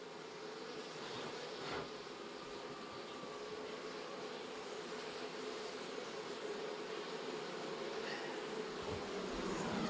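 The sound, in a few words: mountain honey bees buzzing around hive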